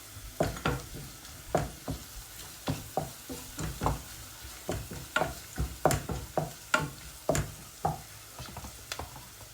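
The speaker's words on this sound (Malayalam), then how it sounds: "നന്നായിട്ട് വഴണ്ട് വരുന്നിടം വരെ നമുക്ക് ഇളക്കി കൊടുക്കാം" Garlic sautéing in a pan for a Kerala mushroom thoran, stirred with a utensil: repeated close scraping strokes at an uneven rhythm over a soft sizzle, with no talking.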